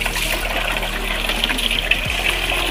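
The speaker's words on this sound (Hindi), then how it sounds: "देखो ठंडा ठंडा पानी जा रहा है" Cold tap water running and pouring steadily over a pet dog during an outdoor bath, a continuous close gushing wash with no voices.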